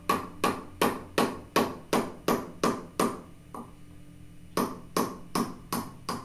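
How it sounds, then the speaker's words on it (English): Hammer tapping an M4 screw to drive a pin out of an Umarex 850 Airmagnum CO2 air rifle, a quick regular series of sharp metallic knocks, about two per second, with a short pause midway before the taps resume. "Just insert the screw inside the pinhole and tap it gently with a hammer to push the pin out."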